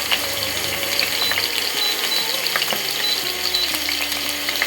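Onion paste frying in hot oil for ghugni, a loud, constant close-up sizzle with faint crackles and occasional stirring sounds.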